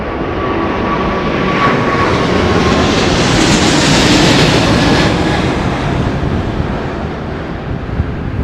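Emirates airliner going around at London Heathrow during Storm Darragh, gear still extended in wind shear, a loud, continuous roar of jet engines swelling overhead and then fading slightly.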